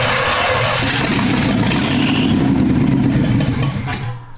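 A small-block Chevy V8 in an abandoned 1971 Jaguar revs loud and close, a sustained rough roar that holds steady before dropping off abruptly at the end.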